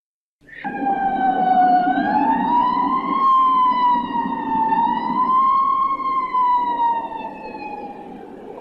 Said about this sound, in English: The sound of the Boston Fire Brigade there.